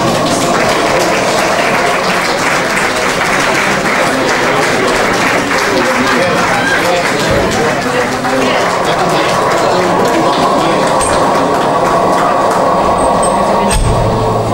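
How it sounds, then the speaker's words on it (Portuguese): Applause from a carnival audience for a performer at an elderly folk dance show, a dense, steady wash of clapping that fills the whole stretch with chatter and crowd noise mixed in. "Uma salva de palmas para ele."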